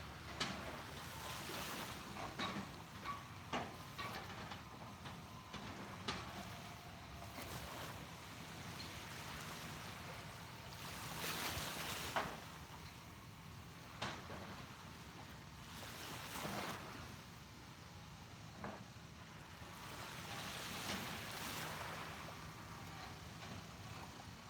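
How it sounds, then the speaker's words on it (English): Calm ocean waves wash gently onto a beach at sunrise, soft swells rising and fading every few seconds, faint and distant under light wind noise, with no voices. "The waves are really calm again today, which means the water is crystal clear again."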